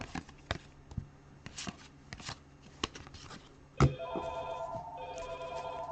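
A telephone rings with a steady, repeating electronic tone in the second half, close and clear. Before it, sharp card-shuffling clicks and taps sound during a baseball and basketball card break.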